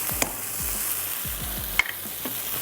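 Chicken curry with kasuri methi simmers and sizzles in a pan, a steady close frying hiss with light rhythmic stirring thumps and a sharp clink, and no voices.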